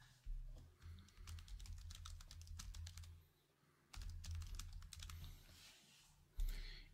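Keys clatter on a computer keyboard in two quick bursts of typing as a name is entered, each burst a soft, rapid run of close taps over low room hum, with a brief pause between and a final tap.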